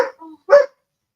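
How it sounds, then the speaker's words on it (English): Dogs indoors at home barking as someone comes through the door, two short close barks separated by a brief pause, then silence. "My wife must have walked through the door because the dogs are barking"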